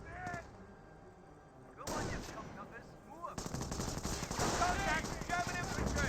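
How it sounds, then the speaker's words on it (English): Machine gun fire in the Company of Heroes strategy game, bursts of rapid gunfire and thuds that grow denser and louder toward the end, with battlefield clutter and a faint voice-like layer underneath. "Grenadier now receiving a bit of fire there."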